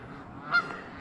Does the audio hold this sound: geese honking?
yes